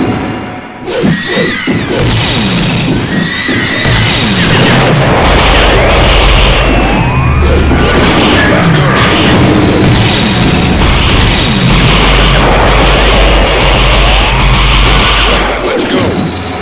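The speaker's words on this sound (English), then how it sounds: "Space Mode Nuclear Explosion." A huge nuclear blast effect in a MUGEN fighting game, opening with a sharp boom and rolling into a long, loud, sustained roar of crashing, thundering explosions.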